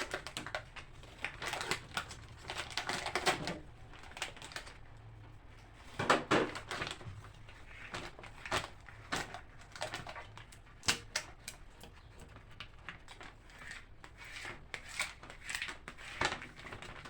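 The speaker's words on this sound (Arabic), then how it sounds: "فبمقص كده اشيل كل الورق ده" Scissors cut through paper in a kitchen, making irregular sharp snips and crisp rustles that come in quick bursts at a fairly low level.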